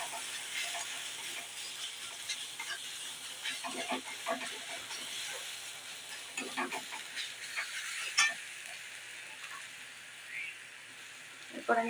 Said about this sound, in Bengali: সমস্ত মশলা দিয়ে আমি একটুখানি কষিয়ে নেব